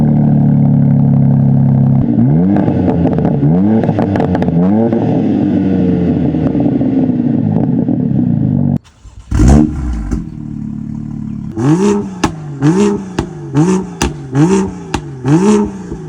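A BMW M2 with a downpipe and no catalytic converter revs loudly up and down several times, then after a sharp break delivers a rapid series of short, punchy throttle blips close by.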